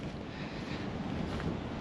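Wind buffets a microphone out on a muddy, slushy airfield. It makes a continuous broadband roar with gusty swells and no pauses, loud and close, with no speech over it.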